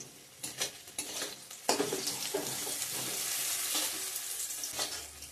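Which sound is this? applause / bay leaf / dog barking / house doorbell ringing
bay leaf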